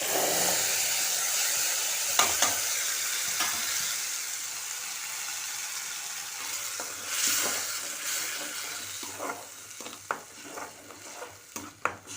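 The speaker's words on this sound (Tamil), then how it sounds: "இந்த அரைச்சி வச்ச புதினா வைக்கிறேன்" Ground mint paste fries in a pan for mint rice, with a loud, continuous hissing sizzle up close and scattered spoon scrapes and clinks from stirring that grow more frequent toward the end.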